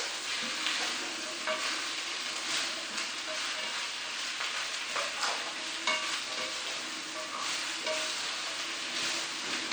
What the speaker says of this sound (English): I think you just saute like this, and about 5 minutes.